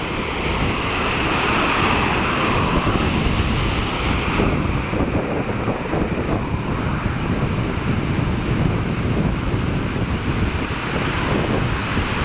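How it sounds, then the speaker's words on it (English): Strong outflow of water from the inland sea pouring out beneath Stanley Embankment on Anglesey, a constant loud rushing roar mixed with wind buffeting the microphone throughout, no speech. "Appreciate the force of that water."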